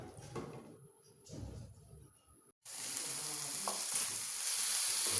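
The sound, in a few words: chicken frying in oil in a pot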